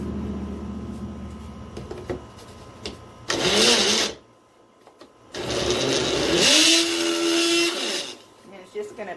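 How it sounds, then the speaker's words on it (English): A kitchen blender churns paper and water into pulp for papercrete, giving two loud whirring bursts of a few seconds each with a pause between them and a short stir of lower noise at the start. "it's just going to blender up into a paper pulp"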